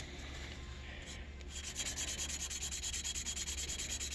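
Fine 600 grit sandpaper rubs a saxophone neck cork in quick, even back-and-forth strokes, a soft, close, rhythmic hiss that begins after a brief pause.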